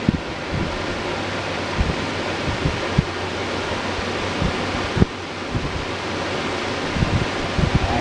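A Robbins & Myers 12-inch table fan running on high, giving a steady broadband whoosh of moving air with light knocks and rattles from the shaking fan, heard close and alone.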